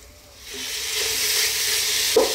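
Beef with spices cooking slowly over fairly low heat for Arabic kabsa, a soft steady sizzle and hiss swelling after a quiet start, with a brief clunk of the spoon near the end.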